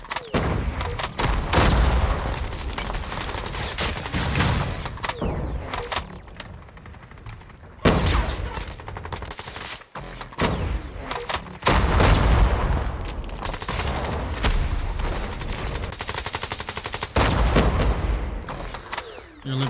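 Rapid bursts of gunfire from the mobile shooter COD Mobile, loud and dense, with repeated volleys and brief pauses between them.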